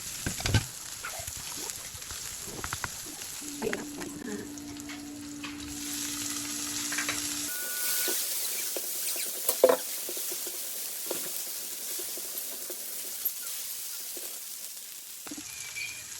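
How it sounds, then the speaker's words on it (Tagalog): Garlic and onion sauté in a hot pan with a steady, crackling sizzle and occasional stirring scrapes. The sizzle swells and stays loud for the rest of the clip. "ako po ay magigisa na ng bawang at sibuyas"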